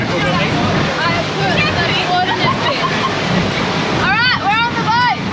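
Wind and rushing water fill the air around a boat at sea in Australian waters, a constant roar with distant voices and bird-like chirps in short bursts, ending with squeaky calls.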